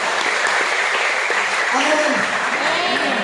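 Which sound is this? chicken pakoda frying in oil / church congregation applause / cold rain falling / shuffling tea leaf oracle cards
church congregation applause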